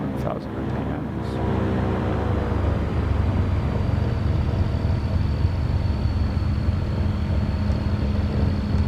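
Small aircraft engine throttled back to roughly 1,000 RPM on an early-morning mail run, a steady low droning rumble with harmonic bands held at even loudness throughout, with some talk over it.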